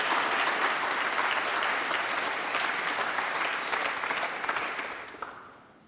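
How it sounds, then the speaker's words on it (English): Audience applause at the 2018 UK Championship snooker match after a century break, a dense sustained round of clapping from the arena crowd that fades out at the end, with no voices over it. "we get a big round of applause for this break"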